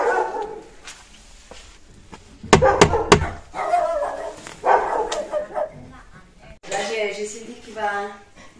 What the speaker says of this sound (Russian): она так громко лает